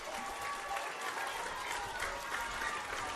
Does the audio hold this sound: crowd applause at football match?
yes